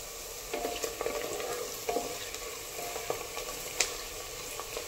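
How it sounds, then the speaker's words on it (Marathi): Onions sizzle and brown in a pan for pavta bhat, with a steady, fairly quiet frying hiss broken by light scrapes and stirring clicks. "पहा, कांदा ही ब्राऊन होत आहे।"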